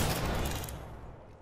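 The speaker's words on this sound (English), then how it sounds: "I'm getting shot at." Rapid bursts of gunfire during a firefight in the battle royale video game Apex Legends, dense and loud at first, then easing slightly toward the end, with no talk over it.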